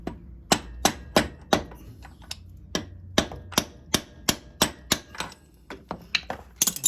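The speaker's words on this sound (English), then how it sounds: "I'm thinking I can whack it here once or twice" Sharp hammer strikes drive a crank seal into place on a 1984 Honda Goldwing motorcycle engine, about fifteen close, loud metallic whacks in an uneven rhythm, some coming in quick pairs, with no talking.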